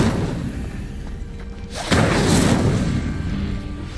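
The Incendio fire spell is cast in Hogwarts Legacy with a single sudden booming burst just past the midpoint. Before it there is a quieter rumbling ambience, and after it a fuller roar lingers and fades.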